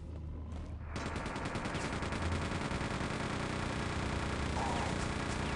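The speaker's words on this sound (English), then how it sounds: "So, chain gun" Chain gun in Quake 2 firing a long unbroken burst of rapid, loud mechanical shots after a brief quieter lead-in, close and dense for several seconds with no voice.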